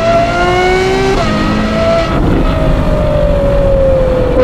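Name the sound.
Ferrari 812 GTS with Novitec exhaust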